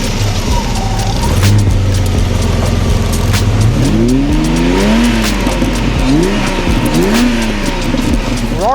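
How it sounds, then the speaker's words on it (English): Ferrari Testarossa with a 12-cylinder engine starts and revs, a loud continuous mechanical drone climbing in rising and falling sweeps over several seconds, heard close and alone. "When you get in and start this car, it sounds like a jet engine starting up."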